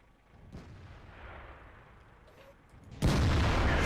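A tank gun fires in World of Tanks gameplay: one sudden loud boom near the end, following a few seconds of quieter battlefield rumble and distant thumps, with no voices.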